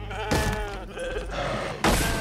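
Sheep bleating in the video game For Honor, two short wavering bleats close up, the second following after a pause, with a dull thunk and faint game background between them.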